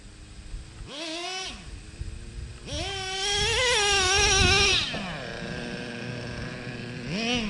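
A Traxxas Revo 3.3 nitro RC car engine buzzes at high pitch, revving up and down in several bursts with a sustained whine in the middle, fairly close with a background hum.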